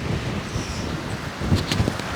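Gusty wind buffeting a microphone, producing low rumbling thumps and a constant roar outdoors.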